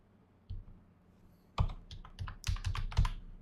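Fingers type on an oversensitive computer keyboard while a Facebook business ad is set up, a lone click at first and then a close, quick burst of uneven keystrokes.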